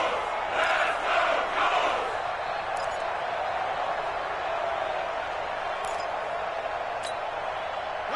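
Stadium crowd at an American football game between Indianapolis and Carolina, cheering and roaring loudly ahead of a big third down, a steady wash of voices with a swell near the start.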